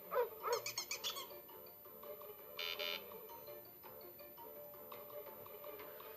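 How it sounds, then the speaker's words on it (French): A scary dog in a video game barks in a quick burst of several loud, close yaps. Softer electronic game sounds and a brief buzzing tone follow. "il y a un chien effrayant"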